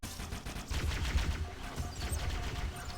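Covenant weapons fire in Halo: Combat Evolved, a rapid, continuous fusillade of energy shots rattling at moderate distance for the whole stretch, with no talk over it.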